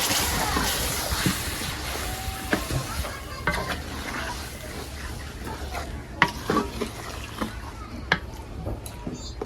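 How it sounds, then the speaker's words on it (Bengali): Marinated fish stirred in a pan with a little onion, giving steady scraping and soft sizzling with scattered utensil clicks, close and fairly loud throughout. "দিয়ে দিব মেরিনেট করা মাছ। এবার সবকিছু খুব ভালোভাবে নাড়িয়ে নেব।"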